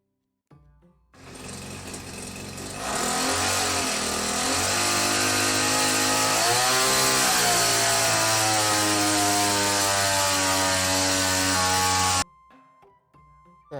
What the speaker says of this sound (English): this is a two-stroke running at 1800 RPM